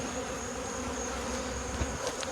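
A large cluster of honey bees under a shed floor gives a faint, steady, low buzzing drone with no talk.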